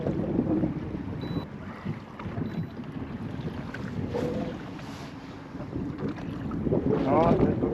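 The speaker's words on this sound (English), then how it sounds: "That wind is vicious." Strong, vicious wind on open water from a boat, roaring and buffeting the microphone in a continuous loud rush, with water noise beneath and a gust building toward the end.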